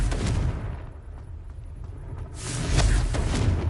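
A Confringo spell explosion from Hogwarts Legacy: a heavy, booming blast with a deep rumbling tail, then a second surge of crackling, bursting impacts, heard alone without speech.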